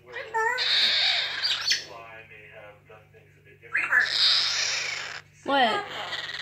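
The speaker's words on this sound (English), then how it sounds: "John, I don't want to hear your screeches." A pet bird gives harsh screeches and chirps in two loud bursts, with short sharp calls between them, while a person talks over and around it.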